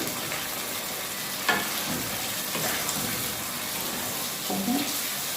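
Eggs added to a potato and egg curry in hot oil and stirred: a dense, steady sizzle and frying hiss throughout, with a few soft clunks of stirring.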